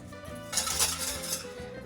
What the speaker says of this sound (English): And then you're going to whisk it all together